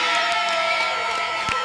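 A crowd cheering and whooping, a dense continuous roar of many voices with a few higher shouts poking out, loud and steady across the short moment.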